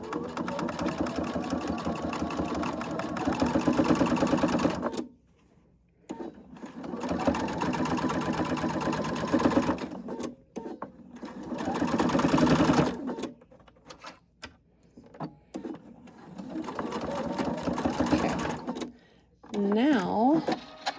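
A sewing machine stitches fabric in several sustained runs of rapid, close mechanical whirring, separated by short pauses, with a voice talking at intervals.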